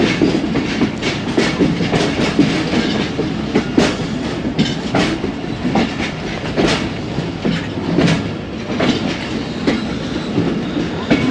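The Khyber Mail passenger train runs on rails near Multan Cantt station in cold, foggy Punjab weather, its wheels giving a loud, steady clickety-clack with rattling carriages close by.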